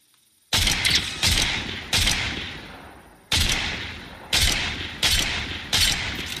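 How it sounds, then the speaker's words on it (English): Loud bursts of gunfire in a shooter video game crack out in repeated volleys, each sharp onset trailing off into a decaying tail, with brief pauses between the clusters. "I hear a lot of gunfire."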